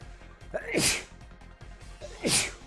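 A single person sneezes twice during a Dear Days 2 card game session, each sneeze a sharp burst set about one and a half seconds apart, with low background sound between them.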